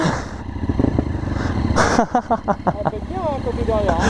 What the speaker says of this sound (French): On vient d'installer le pot d'échappement.